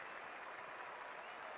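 A large crowd at Lord's cricket ground applauds Tendulkar's century with a dense, even patter of clapping that stays steady throughout, faint and distant.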